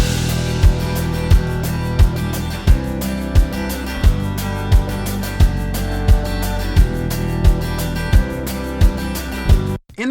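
Full band rock song mix with all tracks playing together: steady kick drum pulses under dense guitars, cymbals and sustained tones, loud and continuous, cutting off abruptly at the end.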